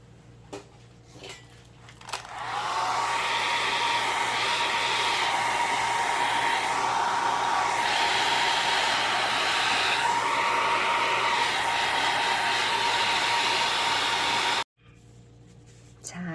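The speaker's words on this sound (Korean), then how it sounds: "여러분 드라이기로 빨리 말라서 좀 보여드리도록 할게요" A hair dryer switches on after a couple of seconds and blows with a loud steady whir, then cuts off abruptly near the end.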